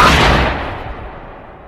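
A single loud, close gunshot in a film scene booms out and then fades in a long, rumbling decay with no voices.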